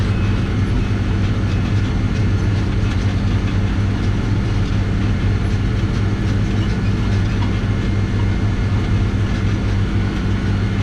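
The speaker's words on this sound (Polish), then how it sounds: "silnik John Deere robi swoje" A John Deere tractor engine drones loudly and steadily at close range, with a dense low rumble and a rattling, clattering texture throughout and no talk.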